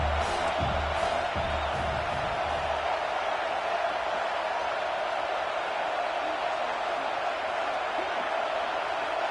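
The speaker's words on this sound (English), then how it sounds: "how nice is it to have the home crowd going absolutely bananas" Home crowd at a football game roars in a steady, loud wash of cheering that fills the whole stretch, with a few thuds and low bursts early on.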